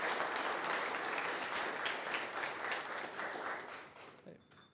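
An audience at a startup pitch event in Vienna applauds, a dense, steady wash of clapping that holds for about four seconds before tapering off.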